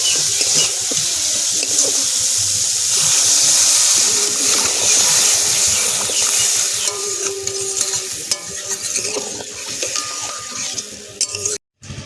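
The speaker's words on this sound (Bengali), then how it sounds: "দিয়ে দেব জল" Water poured into a pan of oil-fried spices for a fish curry, a loud steady sizzle with stirring and scraping that settles into a softer bubbling toward the end.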